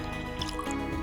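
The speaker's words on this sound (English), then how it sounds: "Water, top it up." Water is poured to top up a drink of mint and lemon, giving a soft, close trickle and light splashing for about a second.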